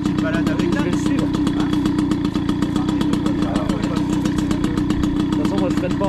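A Ford vehicle's engine starts right away and runs at a steady, loud idle with a fast even chug, filling the whole stretch alone.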